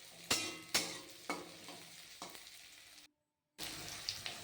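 Onion, garlic and green chili stir-fry in mustard oil, with a spatula scraping the pan in sharp repeated strokes over a soft sizzle; the sound cuts out briefly, then the sizzling resumes.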